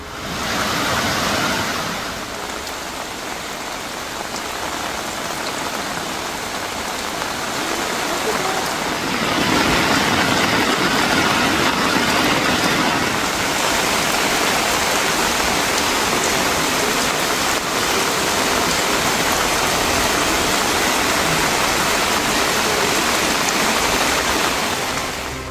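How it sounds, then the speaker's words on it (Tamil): Heavy rain pours and floodwater spreads around homes in the Nagore area of coastal Tamil Nadu, a steady broadband wash that swells louder partway through and holds without pause, with a voice heard faintly beneath. "பல்வேறு பகுதிகளில் மழை வெள்ளம் தேங்கியுள்ளதால் மக்கள் அவதி."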